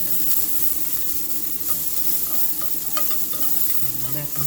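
Chicken wings frying in an air fryer while being flipped, giving a steady close sizzle and hiss with faint clinks and stirring scrapes throughout.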